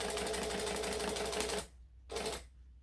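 A sewing machine stitching runs in a rapid, even mechanical rattle for about a second and a half, stops, then gives one brief burst before falling quiet.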